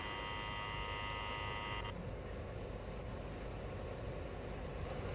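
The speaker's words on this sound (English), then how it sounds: "Take your finger off that bleeding buzzer." A harsh electric buzzer held down continuously for about two seconds, then cutting off to leave a steady low hum and rumble in the room.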